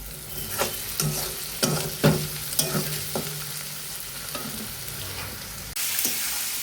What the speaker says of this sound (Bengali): চিকেনটা উঠে গেছে এখন কড়ার মধ্যে এখন নাড়াচাড়া হচ্ছে